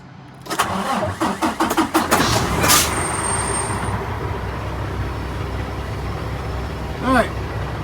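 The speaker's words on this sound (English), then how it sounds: "let's turn the truck on" A 2020 Peterbilt 579 truck's engine cranks in a quick series of loud pulses, then catches and settles into a steady, rumbling idle close by.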